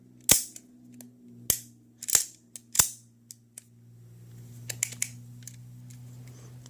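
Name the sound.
Remington R51 pistol function check, slide and trigger clicks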